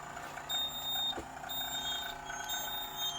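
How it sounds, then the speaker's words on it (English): An egg incubator alarm sounds a repeated thin, high-pitched electronic beep, fairly quiet above a low steady background hum. "I'll just turn that alarm off."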